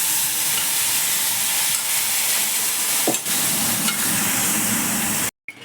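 Ground spice paste with curry leaves fries in a pan for hulianna, a steady close hiss and sizzle with a brief scrape near the middle, continuous until it stops abruptly near the end.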